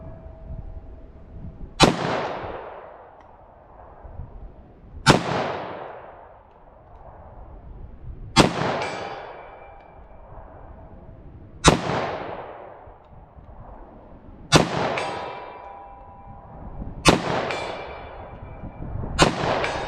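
A short-barrel Taurus pistol fires FMJ/LRN ammunition at an outdoor range: seven loud, sharp gunshots spaced a few seconds apart, each ringing out with a quick decaying echo.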